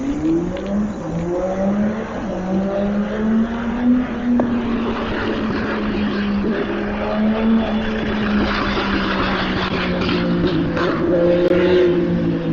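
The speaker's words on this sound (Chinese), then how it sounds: "说到摩托车，就有人开着摩托车过来" A motorcycle runs beside a rider along the Shiqiao waterway, its engine a loud, continuous drone whose pitch rises and falls as it passes close by.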